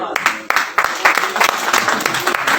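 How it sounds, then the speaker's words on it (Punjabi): An audience at a Punjabi ghazal mushaira breaks into dense, continuous clapping that fills the moment, close and lively. "ਤੁਹਾਡੇ ਵਾਸਤੇ ਤਾਲੀਆਂ ਜਨਾਬ।"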